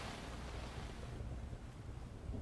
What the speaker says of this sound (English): Oh, I like that rain sound though.